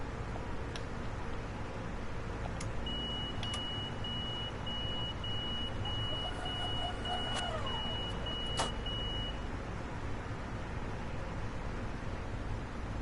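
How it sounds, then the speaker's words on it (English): In the Train Sim World game, a train's door lock gives a faint, steady electronic beep lasting several seconds, heard over constant cab rumble and hiss with no talk. "Made a beeping sound."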